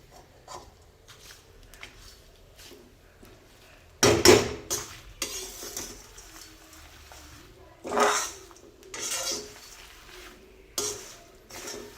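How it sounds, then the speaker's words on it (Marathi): Biryani masala spices dry-roasting in a pan over low flame, stirred constantly with scraping strokes and metallic clinks that come in uneven bursts, several louder scrapes standing out against quiet gaps, close by and without speech. "मंद आचेवरच भाजायचं आहे आणि हात सतत हलवत राहायचा आहे"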